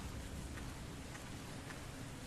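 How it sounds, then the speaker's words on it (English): Rain falls in a Resident Evil Revelations cutscene as a faint, steady wash of hiss, alone and without voices. "Here comes the rain."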